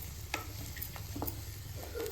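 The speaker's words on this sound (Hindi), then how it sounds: "अब हमें चावल को तड़के के साथ मिक्स करते हुए स्लो फ्लेम पर 1 मिनट तक हल्के हाथों से भून लेना है।" Rice being stir-fried with a tempering over a slow flame, with soft spoon stirs and scrapes in the pan over a low, steady sizzle, close and fairly quiet.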